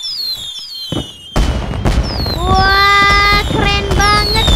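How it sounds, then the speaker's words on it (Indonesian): Fireworks in the mobile game Sakura School Simulator: rising whistles followed by sharp bangs, then a dense volley of overlapping shrieking whistles and crackling bursts, loud and close. "Udah lama aku gak lihat kembang api di Sakura teman-teman."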